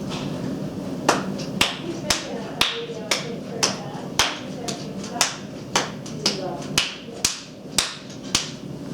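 Hands clap a steady rhythm on the beat, sharp evenly spaced claps close by, layered over a softer background rhythm with a voice talking underneath.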